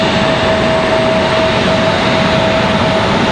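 An American Airlines Boeing 737-800 landing at Raleigh-Durham airport, its engines producing a loud, steady jet roar with a faint sustained whine throughout and no voices.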